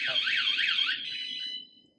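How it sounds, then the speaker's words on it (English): A VanGuardian van alarm fitted to a side door blares a loud, rapidly warbling electronic siren that holds for about a second and a half, then fades out. "110 decibels unimpeded into the environment is a loud alarm, and it'll get everybody's attention"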